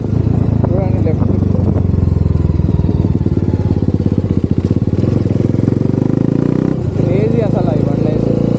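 Fully modified TVS Apache RR310 motorcycle being ridden, its loud engine drone and exhaust burble continuous and close throughout, with a rider's voice talking over it and a brief dip and rev change near the seventh second.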